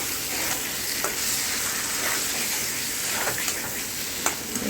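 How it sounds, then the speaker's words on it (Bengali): Potatoes and pointed gourd being stir-fried with spices in a pan for fish curry, a steady close sizzle broken by a few soft scraping stirs, with no talking. "সুন্দর করে কষাতে হবে।"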